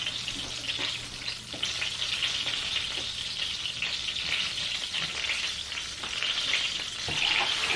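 Butter foams and sizzles in a hot pan in a steady, dense crackle that holds close and even throughout, before sweetbreads are added.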